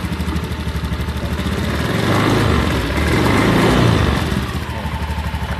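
A Honda Beat scooter engine runs loud and close, with a sluggish throttle; a steady putter swells into two slow rises in revs and then drops back toward idle.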